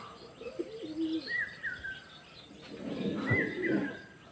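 Pigeons released outdoors at dawn coo softly and chirp, then a burst of fluttering wings rises near the end, moderately close and not very loud.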